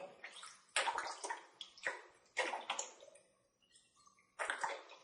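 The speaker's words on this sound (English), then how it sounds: "Now, once you've poured the whole bottle into there" Water from a bottle is poured into the container of a Kangen water unit, giving bursts of splashing and gurgling with short pauses between pours, close and fairly quiet.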